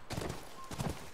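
Horse hooves clop in the video game The Last of Us Remastered, two soft, quiet hoofbeat bursts heard close up over a faint background.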